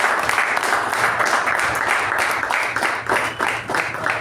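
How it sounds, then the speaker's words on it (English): A gathering at a club meeting applauds award recipients, with a dense wash of clapping from many people that carries on throughout and swells and dips slightly. "I think we can recognize this with a huge round of applause."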